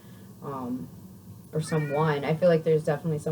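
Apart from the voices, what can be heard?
cat meowing for attention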